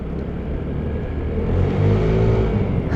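A 2020 Vespa GTS 300 Super scooter with CVT transmission accelerates from a standstill, its engine drone and road rumble steadily building in volume, close and continuous with no talking.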